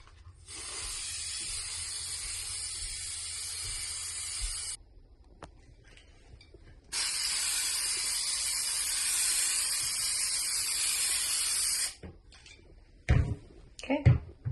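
Aerosol can of Bathworks tub and tile spray paint hissing steadily onto a bathtub in two long bursts with a pause between, followed by a few short clunks and knocks.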